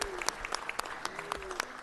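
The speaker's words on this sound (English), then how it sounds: "Let's give him a round of applause." Scattered, fairly faint claps from a few people at a city council meeting sound briefly, mixed with a voice talking and room noise.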